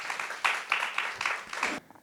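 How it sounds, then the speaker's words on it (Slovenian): Audience applause at a Slovenian crime-fiction evening honouring three authors, coming in several short swelling bursts of clapping that stop abruptly near the end. "dajmo še en aplavz za vse tri."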